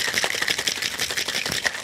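Ice rattles hard inside a cocktail shaker tin in a vigorous shake, a fast, loud, steady clatter of rapid rhythmic hits that runs the whole time with no talk over it.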